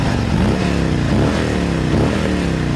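A loud motor vehicle engine with a noisy exhaust revs and rumbles close by on a downtown street, a continuous throaty roar with rising and falling pitch.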